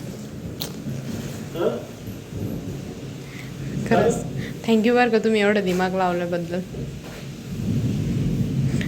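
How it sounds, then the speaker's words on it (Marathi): Sudden heavy rain pours down steadily behind close, continuous conversation, with a loud, rising wash of rain noise and no distinct thunderclap standing out. "फक्त पाऊस चालू आहे"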